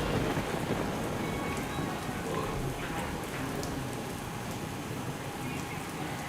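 A heavy downpour over flooded city streets in Surat roars steadily and densely for the whole stretch, an unbroken wash of rain hitting surfaces, loud and close, with no voices.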